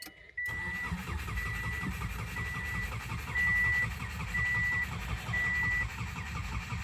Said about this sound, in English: Let the starter cool off for a minute, and I will crank it again.